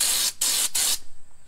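Fluid Film shot from an air-powered spray gun at 60 PSI in three loud, close bursts of hissing spray separated by brief gaps, followed by quiet.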